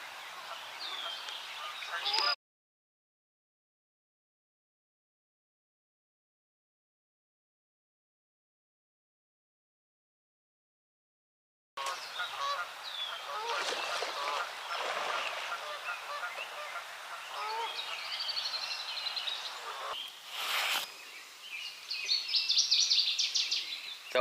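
Loud honking calls from a crane-like bird break out outdoors on a trail in the Appalachians in spring, repeated calls with a gap of silence before the calling resumes.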